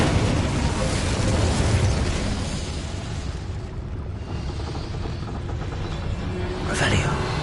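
An Incendio fire spell cast in Hogwarts Legacy, a loud, dense roaring burst of flame and rumbling impact that fills the whole clip, with a voice speaking partly underneath.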